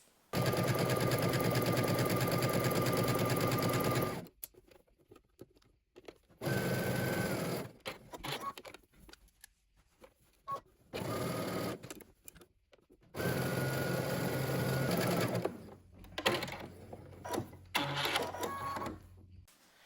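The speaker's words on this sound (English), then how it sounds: "head to your sewing machine and you're just gonna baste these together" Sewing machine basting two fabric layers together with a very narrow zigzag stitch to secure a shelf bra, running in several loud sustained bursts separated by pauses with faint handling noises.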